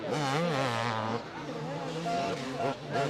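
2005 Yamaha YZ250 two-stroke motocross bikes race, their engines whining and shifting pitch loudly throughout, with a commentator talking over them.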